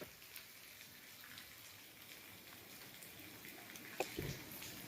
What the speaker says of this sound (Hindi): देखिए बारिश लगी हुई है